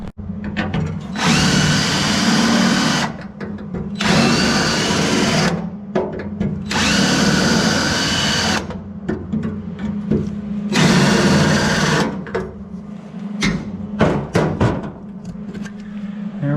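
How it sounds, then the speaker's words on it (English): A power drill bores holes in sheet metal for plug welds, several sustained whirring bursts of a few seconds each separated by short pauses, close and loud, followed by lighter clicks and handling noises. "we'll go ahead and drill all of our holes up, get them plug welded up"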